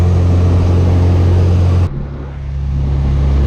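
A Honda Civic's engine pulls hard under acceleration, a loud, close drone that drops briefly at a gear change and then rises again as it climbs through the next gear.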